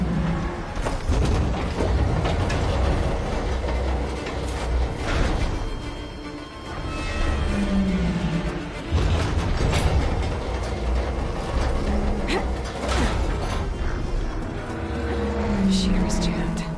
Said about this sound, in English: Shear's jammed.